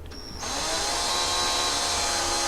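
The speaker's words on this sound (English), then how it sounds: "Now I'm just taking my smallest drill and putting tiny little holes in here" A small power drill spins up sharply and runs with a steady high whine while boring tiny holes into a microwave oven casing, close and loud.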